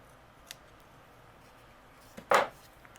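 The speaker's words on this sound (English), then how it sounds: "I'm going to use my scissors and just trim off that piece that's overhanging" A single quick snip of scissors trimming overhanging paper, preceded by a faint tap, in an otherwise quiet room.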